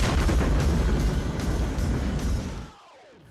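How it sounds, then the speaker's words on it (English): Big cinematic explosions from a guitar-case missile launcher in an action film crash out in a dense, loud burst of rumbling blasts and debris, then cut off into a brief lull with a whooshing tail. "his guitar case that doubles as a missile launcher"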